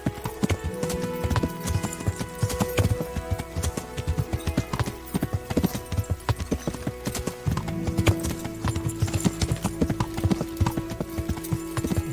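Steady clip-clop of horse hooves trotting at a regular rhythm in the video game Kingdom Come: Deliverance, close and fairly loud, with a faint whinny mixed into the background.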